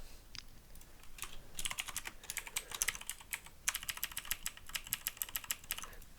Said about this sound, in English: that will be a lot of typing